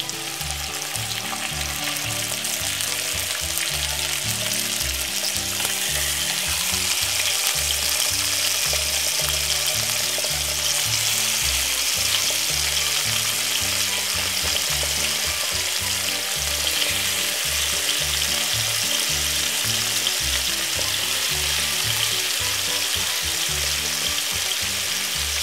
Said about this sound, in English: I'm just gonna pan fry up my bacon